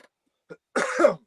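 A single harsh cough, close and abrupt, preceded by a faint short throat sound, then silence.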